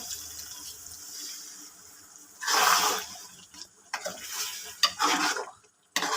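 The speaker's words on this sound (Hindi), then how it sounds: "अब जो है वो हम इसमें 1 कप पानी डाल देंगे।" Water poured into beef karahi in a pot, a loud burst of splashing and hissing sizzle that starts midway and then continues in uneven bursts of stirring and bubbling.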